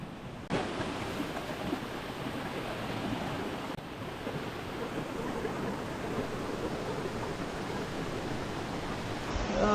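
Nadsadjan Falls in Igbaras, Iloilo, a steady broadband roar of rushing, falling water, constant and fairly distant with no talk over it.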